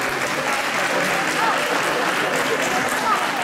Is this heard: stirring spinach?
no